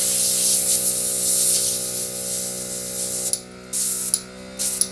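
A spray gun sends a steady, loud hiss through a Messerschmitt 109K aircraft part being cleaned out in a paint setting, then breaks into short bursts with brief pauses near the end.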